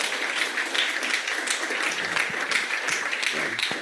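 Steady applause from an audience after a talk on metocean conditions for floating wind turbines, a dense even wash of many hands clapping at moderate distance without a break.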